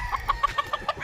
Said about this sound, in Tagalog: Ito yung dinala kong manok.